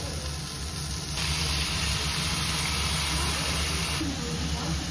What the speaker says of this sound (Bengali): আমরা এক এক করে যে মাংসগুলো স্টিকের মধ্যে ঢুকিয়েছিলাম সেগুলো প্যানের মধ্যে দিয়ে দেবো।